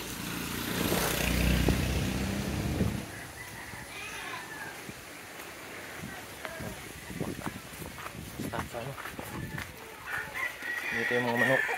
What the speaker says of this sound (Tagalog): Dito yung mga manok.